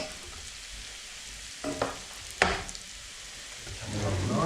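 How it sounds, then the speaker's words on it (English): Onions frying in a pan for a soft cheese and mushroom curry give a steady sizzle, stirred with a couple of sharp scrapes and clatters midway, close and without speech. "So let's give these onions a stir."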